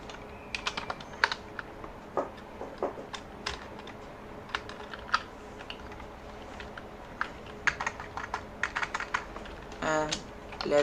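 Fingers clatter on a computer keyboard in quiet bursts, close irregular key clicks with short pauses between runs of typing.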